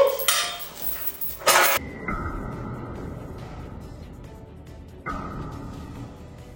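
Two steel hammers slam together in one loud, sharp metallic strike that rings on with a fading tone, followed by a second, lighter clink that leaves another brief ring.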